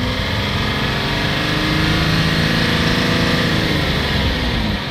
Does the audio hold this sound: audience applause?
no